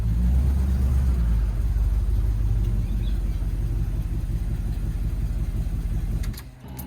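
A Ford Bronco with a 351 engine being driven, a steady low engine rumble and road roar holding throughout, close and loud, easing off near the end with a few light knocks.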